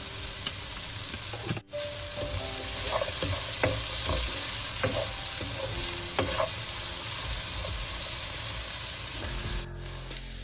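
Ingredients for prawn noodles sauté in a hot pan with a continuous, close sizzle. Intermittent scraping and tapping from a stirring utensil runs throughout, with one brief dropout early on.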